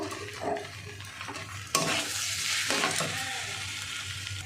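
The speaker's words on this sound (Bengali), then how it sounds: "এবার একটু কষাবো।" A spiced mixture for egg pulao frying in a pan, with a continuous sizzle and repeated close scraping and stirring strokes, one sharper clatter midway.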